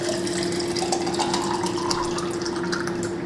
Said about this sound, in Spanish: Voy a añadir agua.